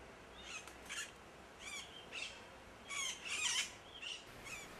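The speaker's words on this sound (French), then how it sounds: "quelques arbres avec des perroquets verts," Green parrots in riverside trees in Chile give repeated short, shrill squawking calls in irregular bursts over a soft background hiss, with no talking.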